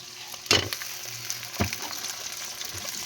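Tomatoes fry in a pan with shrimp paste over high heat, a steady close sizzle broken by a couple of sharp bursts as the ingredients are stirred, with no talk.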